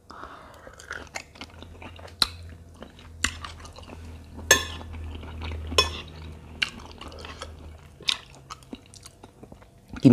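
Someone eats a spicy young-tamarind salad with raw shrimp, chewing and crunching up close in an irregular rhythm, with occasional light clinks of cutlery and dishes and no talking.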